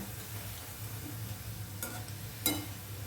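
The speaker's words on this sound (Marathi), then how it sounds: "उलटी पालटी केली की मग ती छान भाजतात तळले जातात चांगले बघा" Ridge gourd fritters frying in hot oil as they are turned, a soft continuous sizzle with a low hum beneath and two brief clinks of a utensil against the pan.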